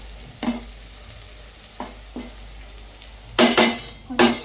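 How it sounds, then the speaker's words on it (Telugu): Onions with turmeric frying in a pan make a continuous close sizzle, broken by several scraping stir strokes, the last few louder and quicker; no voices. "ఉల్లిగడ్డలు అలా కొంచెం ఎర్రగా కలర్ రావాలి కొంచెం పసుపు పసుపు వేసాక కలుపుకోవాలి"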